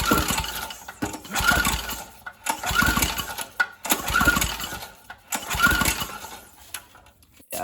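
Briggs & Stratton 3.5 hp small engine with its throttle opened by hand, pulsing in regular laboring surges about once every second or so, each rising and falling, heard close up.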